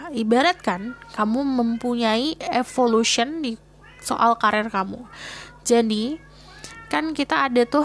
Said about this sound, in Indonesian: kalau kalian dengar kucing itu kucing aku